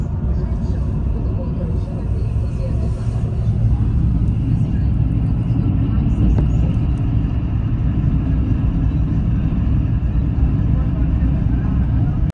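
Inside a Volvo sleeper bus on a long Bangalore to Vizag run, a deep engine rumble and road drone hum steadily and loud throughout.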